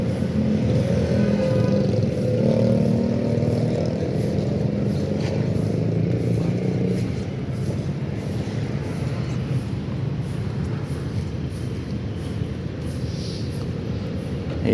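A motorcycle riding on a punctured tyre fitted with a double tube gives a steady engine drone and road rumble, louder at first and then settling to a lower, even hum.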